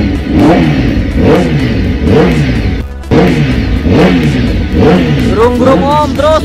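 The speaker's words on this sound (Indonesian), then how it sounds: "super pole kedengeran dari sini suara motornya" Superbike engines revving during Superpole qualifying at Mandalika circuit in Lombok, repeated loud roaring passes that rise and fall in pitch, one after another, with a brief gap and a high whine near the end.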